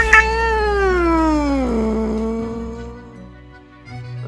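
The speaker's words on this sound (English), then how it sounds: "Kind of seems to be in slumber, occasionally emanating a soft snore like purr." A cat in the video game Death and Taxes gives a loud, close, drawn-out meow that slides downward in pitch and trails off, followed by quiet.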